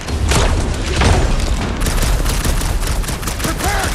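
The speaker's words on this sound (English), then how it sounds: "Hey, Quill, want to see some fireworks" Fireworks in the video game Marvel's Guardians of the Galaxy, a dense, loud barrage of crackling bursts and booms that rattles on continuously for several seconds.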